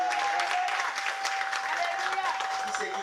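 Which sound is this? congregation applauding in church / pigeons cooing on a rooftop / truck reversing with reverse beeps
congregation applauding in church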